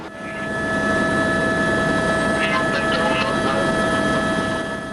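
A helicopter on a survey overflight at 300 feet above Mexico City makes a steady, loud engine and rotor drone with sustained tonal whine, heard continuously and close.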